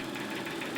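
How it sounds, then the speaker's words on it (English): A newly built engine run on a test panel idles steadily, a dense mid-pitched mechanical drone with a faint knocking texture, close and continuous throughout. "I should be able to just hit the start button and the engine should start"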